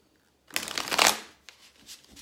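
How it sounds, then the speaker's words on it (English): A deck of tarot cards is riffled and shuffled close up, one brisk burst of fluttering snaps lasting about a second, then a softer tap and a few light shuffles with no talk. "A little more shuffle, guys. Just want to make sure I really clear the deck for you."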